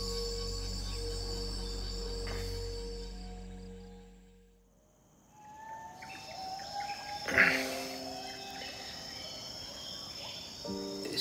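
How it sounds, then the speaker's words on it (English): Dense layers of chirping insects and calling frogs fill a quiet Borneo rainforest at dusk, with occasional bird calls rising now and then, steady and moderately distant. "I can hear endless frogs, bugs, a few calls from the last few birds"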